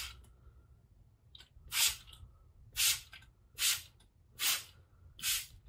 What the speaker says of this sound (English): And now we're going to spray it and see kind of what happens.